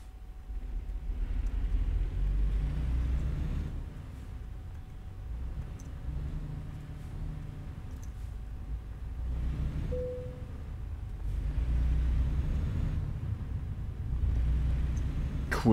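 A car driving at night rumbles steadily as a low engine and road drone, with gentle swells in loudness throughout and a brief faint tone partway through, close and continuous, with no talking.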